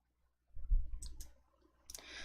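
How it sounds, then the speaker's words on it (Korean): A computer mouse double-clicks at a desk, a couple of faint, quick clicks over a soft low background hum, ending in a brief burst of noise. "더블 클릭"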